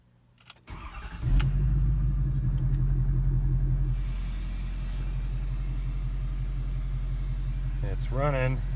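A 6.7L Powerstroke diesel fitted with a 4-inch MBRP delete pipe cranks and fires, then settles into a loud, steady, deep idle rumble that continues with a faint voice near the end.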